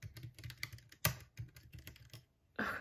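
Bare switches on a computer keyboard with the keycaps removed, typed in quick uneven bursts of sharp clicks and clacks, close and fairly loud, with a harsher rattling burst near the end; no voices.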